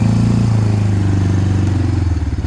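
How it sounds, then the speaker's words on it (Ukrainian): Mikilon Hardy or Linhai M170 engine vehicle pulling away from a start at about 2500 rpm, a close, loud, low chugging engine pulse that shifts pitch as it moves off. "Ось він стартує, десь починає їхати на 2500 оборотів."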